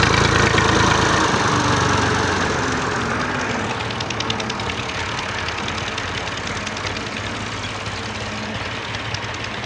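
A tractor engine runs steadily while driving home from a village tube well in Punjab, its loud, continuous low chugging and rattle holding close throughout without talk.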